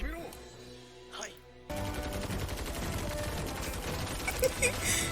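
Gunfire from the anime Fire Force, a fast burst of repeated shots with mechanical clatter starting abruptly after a quiet opening, loud and dense, with a soundtrack beneath.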